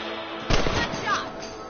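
Gunfire from a rifle while hunting rabbits in the video game Red Dead Redemption, a single muffled shot bursting over a steady noisy background with a faint second report after it.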